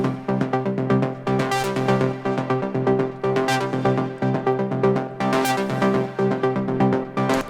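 A synthesizer plays a choppy, stuttering arpeggio of bright repeated notes with a punchy rhythmic pulse, looping steadily and alone without any voice.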